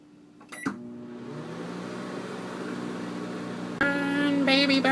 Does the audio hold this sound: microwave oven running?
yes